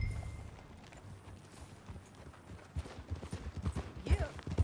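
Horse hooves clip-clop while riding in Red Dead Redemption 2, starting quiet and growing into a louder, rapid rhythmic beat toward the end, with faint background sound and no talk.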